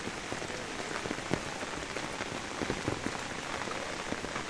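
Floodwater rushing across submerged fields after heavy rain in Kaharole, Dinajpur: a dense, steady broadband wash of flowing water with scattered splashy crackles, close and continuous with no voices.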